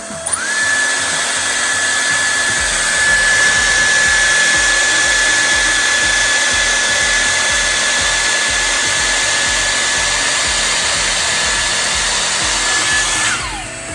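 Dyson Airstrait hair dryer-straightener running in wet-to-dry mode at 285 degrees Fahrenheit, blowing a loud, steady whoosh of air with a high motor whine that spins up at the start and winds down at the end.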